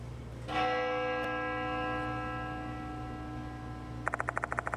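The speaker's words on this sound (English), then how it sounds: "The sound of a bell echoes in my ears." In the video game Spirit Hunter: Death Mark II, a single bell strikes clearly and rings out with a long, sustained tone that slowly fades. Near the end, a quick series of rapid ticking clicks follows.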